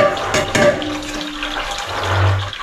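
Running water splashes into a bowl as something is rinsed and rubbed by hand, a steady close wash with clattery bursts early on and no speech.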